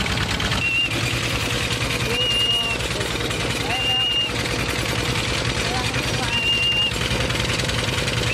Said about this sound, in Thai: คือน้องเขาจำเสียงรถไถได้นะ